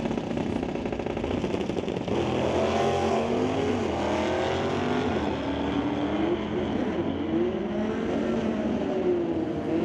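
Buick and Camaro drag racing side by side at a racetrack, engines roaring loud and steady with rising and falling pitch sweeps as the cars run down the strip.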